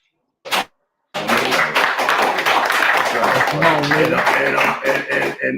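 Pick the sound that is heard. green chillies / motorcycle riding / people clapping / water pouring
people clapping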